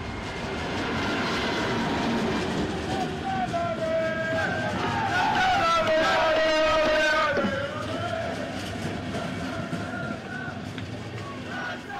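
A special train carrying at least 750 football fans pulls into a station, a loud, steady rail rumble with squealing brake tones that rise and then fade, under background voices and crowd noise.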